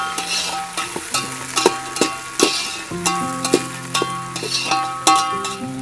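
Onion and curry leaves fry in a pan over a wood-fired stove while a spoon stirs them, giving repeated loud scrapes and clinks over a steady sizzle, close up with no talking.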